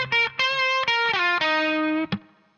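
The riff rings out on overdriven electric guitar, a quick run of bending, sliding notes lasting a couple of seconds before fading.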